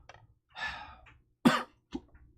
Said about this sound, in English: got a sigh, a cough, and a hiccup all together